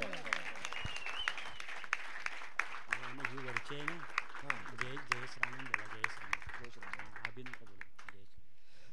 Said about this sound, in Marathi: सागरसाठी एकदा जोरदार टाळ्या